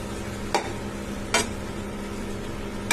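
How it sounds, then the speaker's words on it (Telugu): Leafy greens dusted with turmeric sizzle steadily in a pan while a ladle stirs them, with two distinct scraping strokes of the ladle breaking through the constant frying hiss. "ఇప్పుడు ఏం చేయాలంటే ఒక గరిటె తీసుకొని నీట్గా దీన్ని అన్ని వైపులా పసుపు అనేది యాడ్ అయ్యేలాగా"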